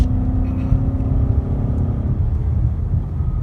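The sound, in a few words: 2015 Mustang GT engine during clutch downshift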